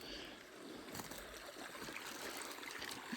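Creek water trickling and burbling outdoors along a stretch lined with azaleas, a faint, steady wash of running water with no talk.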